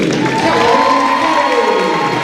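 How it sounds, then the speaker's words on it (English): Crowd at a college volleyball match between Elmhurst University and University of Wisconsin cheering and applauding for a player introduction; loud, continuous roar with shouts and sustained voices, dense and close. "A round of applause for number 2, Kellen"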